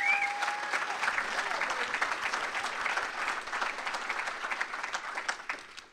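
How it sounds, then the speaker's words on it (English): Sustained audience applause at a military chief master sergeant's retirement ceremony, a steady dense clapping that fills the room for the whole stretch and fades slightly at the end, with faint voices underneath. "Can I have a round of applause?"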